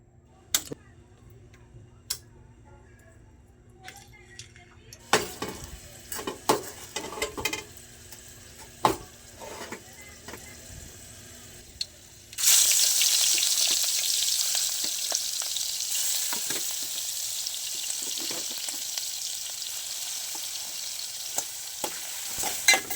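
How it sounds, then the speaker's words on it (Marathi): Garlic dropped into hot ghee and oil for a Konkan clam dish: a few light taps and clicks, then an abrupt, loud, steady sizzle that keeps hissing to the end. "तुपात तेल टाकलं आहे, त्यात लसूण टाकूया आता"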